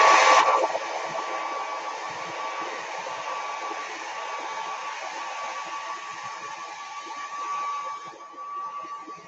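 A hair dryer blowing on a wet handmade doughnut craft, a steady close whirring hiss that starts abruptly and holds at an even level, with a faint steady whine.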